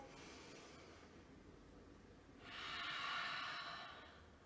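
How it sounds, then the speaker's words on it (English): A slow breath drawn in through the nose in a children's yoga session, made to sound like the sea in a shell: a quiet, faint start, then a soft airy rush that swells and fades over a couple of seconds. "So if you can make that sound with your own breathing, take a breath in through your nose."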